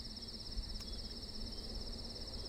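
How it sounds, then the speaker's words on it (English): Crickets in the video game Road 96 chirp in a continuous, steady high-pitched trill over a faint low hum of nighttime ambience, quiet and distant with no talking. "now we can actually still hear the crickets"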